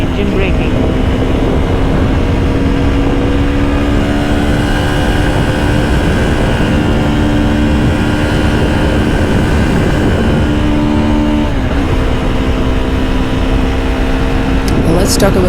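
A Hero Xtreme 200S motorcycle engine hums steadily and loudly while riding, with a constant drone and shifting tonal whine under heavy wind rush, dipping briefly as the revs change near the end.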